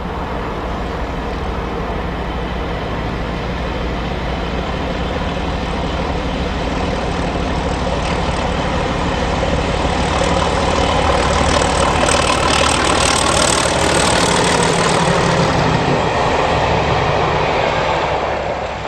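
British diesel locomotive 31285 runs near North Staffs Junction with a loud, sustained engine roar that builds slightly toward the middle and lasts nearly twenty seconds without talk.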